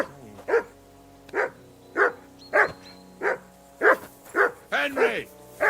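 A dog barks repeatedly in Kingdom Come: Deliverance 2, sharp nearby barks in a steady rhythm about every half second to second, with a voice talking over them.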